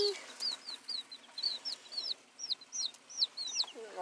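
Small chicks peeping, a rapid series of high, thin, close chirps repeating throughout at low volume.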